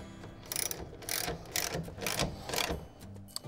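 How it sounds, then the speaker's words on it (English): Ratchet wrench with a half-inch socket tightening a nut on a pickup truck bed rail while installing a WeatherTech roll-up bed cover; several quick bursts of clicking pawl strokes in steady rhythm, close and fairly loud, with no talk. "Now I'm going to use the same half-inch socket, but I went ahead and got a boxed-end wrench to hold the nut on the rail, and so I can tighten it up"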